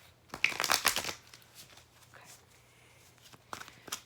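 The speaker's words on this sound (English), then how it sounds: "I like the noise of shuffling myself." A quick riffle of tarot cards being shuffled up close, followed by quiet and a few softer card sounds at the end.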